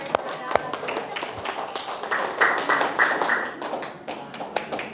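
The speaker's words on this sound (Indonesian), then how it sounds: "Kasih tepuk tangan dulu" A classroom claps together for students at a teaching-practice session, a steady patter of hands that swells into a fuller burst mid-way, mixed with voices and scattered taps.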